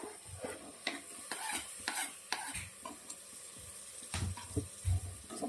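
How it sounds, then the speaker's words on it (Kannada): Two tomatoes tip into a pan of well-fried onions for a ladies finger palya, giving a low, close sizzle broken by repeated sharp scrapes and taps of a spoon stirring against the pan. "ಈಗ 2 ಟೊಮೊಟೊನ ಸೇರಿಸ್ಕೊಳ್ತಾ ಇದ್ದೀನಿ ನಾನು."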